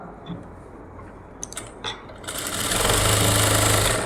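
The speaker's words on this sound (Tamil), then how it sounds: "வச்சுட்டு நேராக ஒரு தையல் போடலாம்" A sewing machine starts up and runs a fast, steady stitch, stitching a puff sleeve at close range, after a few quiet clicks and handling sounds.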